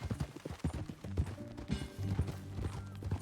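Horse hooves clop in an uneven trotting rhythm in Red Dead Redemption 2, close and fairly loud, with short tonal sounds mixed in around them.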